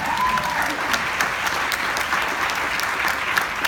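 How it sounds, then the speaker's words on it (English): A large audience applauds at a Sundance 2018 film premiere Q&A, a dense, steady roar of clapping that holds at full loudness throughout. "So give yourself a round of applause."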